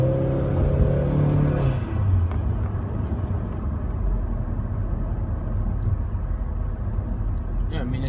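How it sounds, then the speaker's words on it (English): A car engine fitted with a short ram intake, held at full throttle, gives a steady, loud, low rumble that drones on without break for the whole stretch. "this is a full throttle right here."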